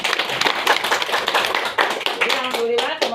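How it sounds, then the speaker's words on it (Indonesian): Students and staff clap at a school gathering celebrating competition wins, a busy burst of applause with a voice speaking over the end. "Itu tepuk tangan dong untuk kita."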